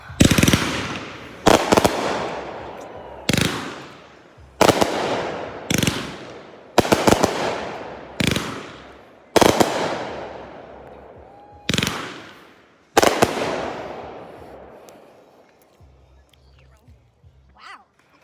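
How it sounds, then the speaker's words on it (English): Memorial Day fireworks go off in a rapid series of about eight loud, booming bursts, each trailing off in a rumbling decay before the next, then fading to quiet. "I want to show you the fireworks"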